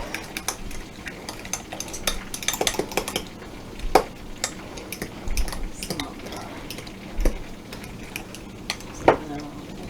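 Apple fritter pull-apart bread ingredients being stirred in a bowl, with irregular clinks and scrapes of a utensil against the dish and a few sharper knocks, close and moderately loud.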